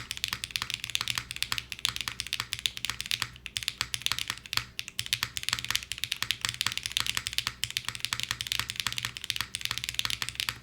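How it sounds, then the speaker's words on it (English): Steady fast typing on an Aalto mechanical keyboard with plastic switches, a dense stream of close, crisp clacks with no pauses, heard alone with no talking. "you can hear some of that like plastic switch sound"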